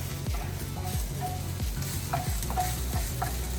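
Rice tossed and stirred with ginger in a hot frying pan for chicken fried rice, a constant close sizzle broken by regular scraping strokes of the utensil across the pan, with no voices.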